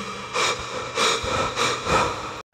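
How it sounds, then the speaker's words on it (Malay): Gasping, laboured breaths come in four heavy, rasping pulses, loud and close like someone desperately short of air, before cutting to silence. "Macam orang tercungap-cungap, macam tak cukup nafas macam tu tau"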